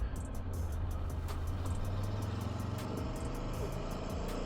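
A 2024 Aprilia Tuono V4 1100 motorcycle engine runs steadily and loud close by, a low continuous drone with some irregular rumble and no clear rise in pitch.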